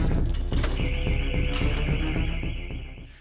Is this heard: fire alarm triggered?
yes